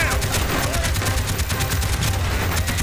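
Rapid gunfire in Call of Duty: Black Ops, a dense, continuous stream of loud shots with no pause, forming a steady rattle.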